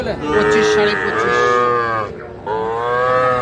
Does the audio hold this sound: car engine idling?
no